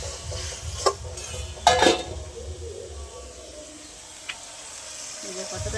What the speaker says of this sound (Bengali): এবার আমি ম্যারিনেট করা মাংসটা দিয়ে দেবো